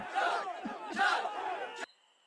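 Crowd roar in the Western game Rustler, a loud burst of massed voices swelling twice over about two seconds before cutting off abruptly to near silence.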